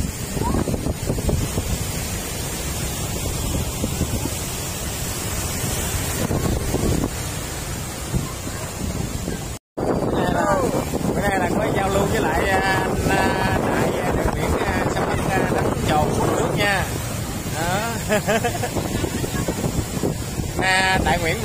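Sea waves and wind on the beach at Vũng Tàu at night, a steady broadband wash of surf and gusting wind buffeting the microphone, with a brief dropout midway and faint voices in the background.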